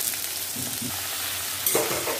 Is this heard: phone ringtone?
no